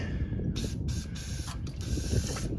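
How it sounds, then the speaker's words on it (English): Bursts of aerosol brake cleaner spray hiss inside a drive shaft tube in several short blasts, close up, with brief pauses between them over a low mechanical rumble. "I got some brake cleaner. I'm just going to spray inside"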